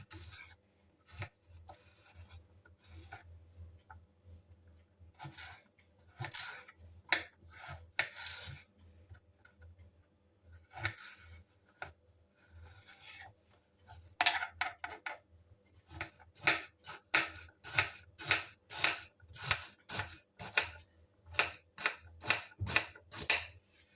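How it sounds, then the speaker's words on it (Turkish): A knife chops carrots on a cutting board for vegetable soup, first in scattered uneven cuts, then in a quick, steady run of crisp close-up strikes near the end. "Havuçları doğruyorum."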